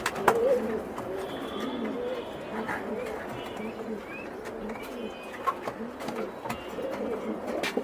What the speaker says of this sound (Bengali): এটা কিং কবুতর বন্ধুরা